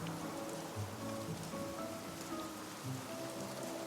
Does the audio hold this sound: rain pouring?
yes